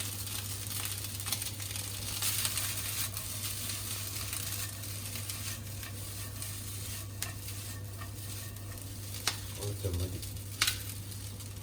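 Chicken fried rice sizzles steadily in a pan as a utensil scrapes and stirs it, a low hum running underneath and a brief spoken word near the end.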